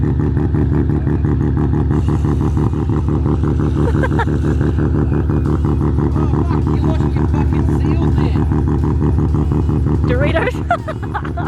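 A Mazda RX-7 FD with a rotary engine idles and pulls away nearby, its loud, steady, buzzing drone filling the whole stretch, while people talk faintly beside it.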